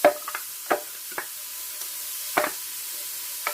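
Chopped vegetables for a Mexican bean stew go into a pan, with a few sharp scraping and clattering hits of a utensil over a quiet, faint frying sizzle.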